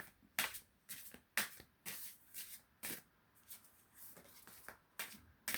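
Oracle cards being shuffled by hand in quick, separate bursts of riffling and slapping, about ten crisp rustles spread evenly, close and fairly quiet, with no talking.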